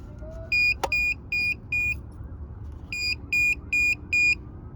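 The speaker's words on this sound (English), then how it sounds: "now we're gonna plug in the power, and it should beep a bunch" A single sharp click, then two groups of four short, high electronic beeps from a MyKey remote starter module in a Kia Stinger GT2 on power-up, even rhythm, close and clear, with a pause between the groups.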